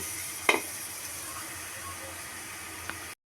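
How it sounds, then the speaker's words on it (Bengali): Fish heads frying with ground spice paste in a pan give a steady, soft sizzle throughout, with a sharp clatter near the start and a faint knock near the end. "মশলা কষানোর জন্য মাছের মাথা দেব।"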